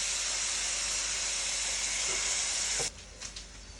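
Water poured into minced pork stir-frying with Thai curry paste releases a loud, steady hiss and sizzle that fills the pan, then drops suddenly as the burst subsides into a softer bubbling crackle.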